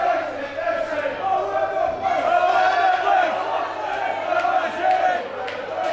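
Local fans in the crowd at the Box Arena in Carlisle roar and chant at a wrestling event, a sustained swell of many voices rising and falling, loud and near, with a commentator speaking over it.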